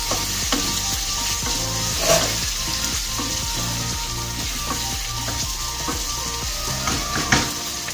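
Potatoes frying in a pan of oil for potato and egg adobo, a steady loud sizzle with a few stirring scrapes and utensil clinks throughout.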